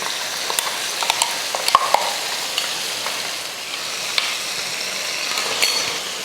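Okra sautéed in oil hisses steadily as ground coconut paste is stirred in, with scattered scraping and clicking from the spoon against the pan, heard close and without speech.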